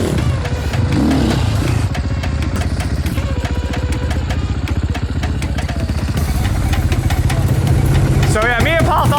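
Two supermoto motorcycles, a Sherco 500SM and a GASGAS 450SM, run with a steady, loud engine drone throughout, rising slightly near the end, with some talk mixed in.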